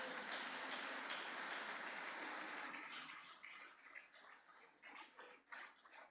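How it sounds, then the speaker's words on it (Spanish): A church congregation claps during a sermon in a dense, steady burst that thins into scattered, uneven claps toward the end. "Dele la gloria al Señor con ese aplauso."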